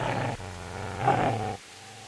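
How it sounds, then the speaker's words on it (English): A dog growls in the medieval game Kingdom Come: Deliverance, a deep, rough rumble held for over a second, then a second louder surge before cutting off, close and with no talking over it. "Get away, you mutt!"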